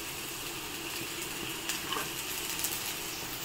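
Ginger-garlic paste sizzles steadily as it goes into onions fried until reddish-brown, a continuous hiss with a few soft stirring clicks near the end, no voices.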